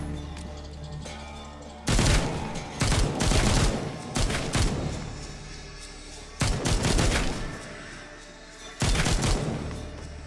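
Assault rifle fire in the VR zombie game Walking Dead Onslaught, loud rapid bursts in several separate volleys of sharp shots, close and dominant, with quieter gaps between them.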